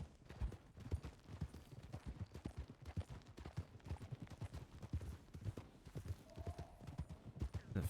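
Several saddled horses clip-clop at a trot in a western video game, hooves beating in a steady, busy rhythm, fairly close and faint overall, with a brief light voice at one point.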